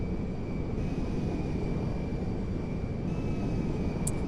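Jet engine roar from a Boeing 747 Dreamlifter in GTA 5, a steady, loud, broadband rumble at neutral thrust with a constant high whine, holding unbroken throughout.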